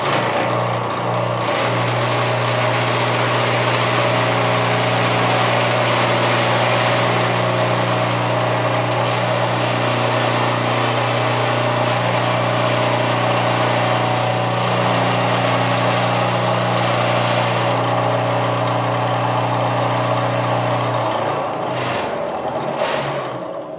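An electric motor runs up to speed spinning a slightly bent shaft, giving a steady droning hum with strong even harmonics for about twenty seconds before it winds down and stops.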